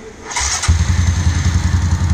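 A Honda Fan 125 motorcycle with a 202cc engine running on gasoline, after sitting idle about a week, cranks briefly and catches. It settles into a loud, close, steady idle with a throbbing rhythm.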